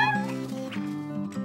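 Cartoon kittens meow in a short, high, wavering cry, close and clear, with a light musical tone behind.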